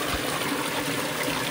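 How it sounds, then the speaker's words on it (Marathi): Spring water piped out at a holy spring site pours in a steady, even rush with a constant broadband hiss and trickle, close and unbroken throughout. "हा असा झरा आहे आणि हा असा तिकडनं येतोय वरनं"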